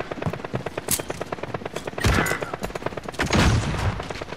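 Rapid gunfire bursts from a video game shooter, repeated sharp shots with heavier volleys and booms, loud and close throughout.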